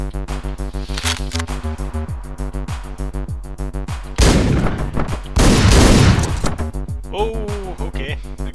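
Shotgun fire in the Hotline Miami top-down action game: loud bursts of shots over pulsing electronic music, with dense noisy blasts in the middle, close and punchy.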